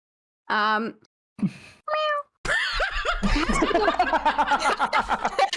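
A person imitates a cat meow in several short, drawn-out vocal mews with pauses between them, close to the microphone, followed by laughter and chuckling from more than one person.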